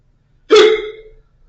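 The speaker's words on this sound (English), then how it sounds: "Now I got hiccups." A single sharp hiccup from an adult man, close and loud, with a short voiced tail and silence around it.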